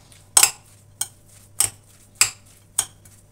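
A utensil clinks against a bowl while a potato and radish kebab mixture is mixed with eggs: five sharp, evenly spaced knocks over a quiet background.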